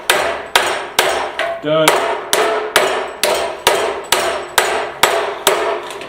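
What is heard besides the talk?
hammer blows forging a steel garden cultivator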